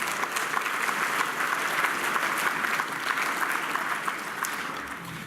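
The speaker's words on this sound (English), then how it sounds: "Give them a big round of applause" Sustained audience applause at an award dinner celebrating young Māori farmers, steady and full throughout, a dense room of clapping with no voices over it.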